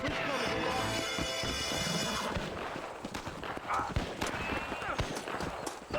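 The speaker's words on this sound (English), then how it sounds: "A gang's just riding through here making noise?" Horses from a riding gang in Red Dead Redemption pass by with rapid clip-clop hoofbeats and game noise, then fade into scattered clatter as a voice talks over them.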